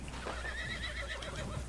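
A semi-tamed horse whinnies in the Red Dead Redemption video game, one drawn-out neigh over a steady low hum of game ambience, with no talk.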